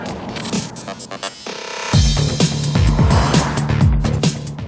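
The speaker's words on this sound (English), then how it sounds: "In the dynamic mode, you get a bit of an exhaust note too" Audi S5 in dynamic drive mode, its engine and exhaust note rising loudly and close, a sustained roar with rapid pulsing gear-like surges after a brief quieter stretch.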